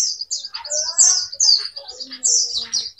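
An oriental white-eye, a female decoy bird, chirps and twitters in quick, high-pitched bursts, close by and clear, with no other sound around it.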